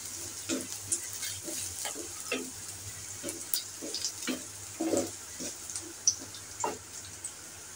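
Spice paste for a sweet pumpkin bhaji with nigella seeds sizzles softly in a pan, with intermittent stirring scrapes and clicks, fairly quiet and close.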